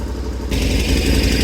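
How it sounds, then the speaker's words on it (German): KTM motorcycle engine running on a trail, a steady close, loud throb that gets louder and rougher about halfway through as the revs rise slightly. "Motor an, ich habe den Finger auf den Killswitch und wir schieben dann schön langsam wieder durch"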